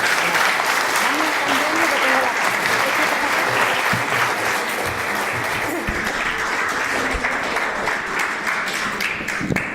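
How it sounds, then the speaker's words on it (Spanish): A lecture audience claps warmly to welcome a speaker taking the floor for a talk on faith in public life, sustained dense applause throughout at steady loudness, with faint voices and murmurs mixed in. "a ustedes pedirles que la reciban pues con un caluroso aplauso como se lo merece"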